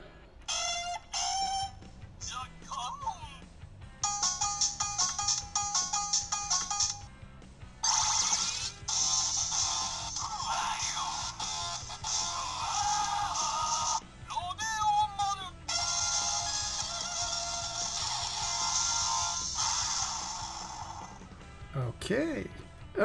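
A Ninninger Ninshuriken candy toy runs through its electronic sound effects, giving beeping melodies, chimes and synthetic bursts in quick succession, some of them overlapping, with a voice heard faintly between effects.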